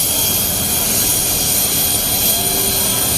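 A loud, steady jet engine roar fills the scene at an airport apron, a constant broadband whine and rumble close by with no break.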